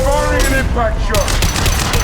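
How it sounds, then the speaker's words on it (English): Impact shot fired in the game Mass Effect 2: a sharp crack and burst of combat effects, brief and punchy, with a voice talking alongside. "Firing an impact shot."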